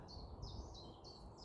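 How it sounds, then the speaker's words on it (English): Repeated high chirping bird calls, about five short phrases in a steady rhythm, faint against a low background hum. "you can hear the birds singing"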